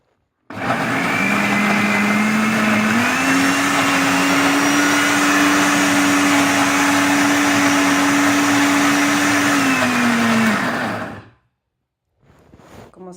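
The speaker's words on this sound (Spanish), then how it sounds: "nada más la necesaria para que la licuadora se pueda mover bien al prenderla" A blender roars steadily for about ten seconds blending chiles, onion and garlic with water, its pitch rising slightly as it chops, then cuts off abruptly, close and loud.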